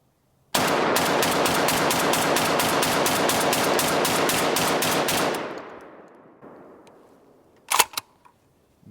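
Derya DY12Y shotgun fires a rapid string of roughly twenty close, loud rounds in steady rhythm, then the racket trails off into quiet followed by a couple of brief clatters.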